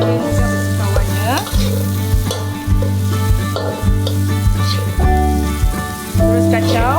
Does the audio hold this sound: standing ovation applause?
no